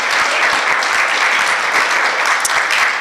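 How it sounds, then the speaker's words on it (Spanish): Church congregation applauding, dense continuous clapping at steady loudness throughout, with no voices standing out. "Dar un aplauso al Señor en esta noche"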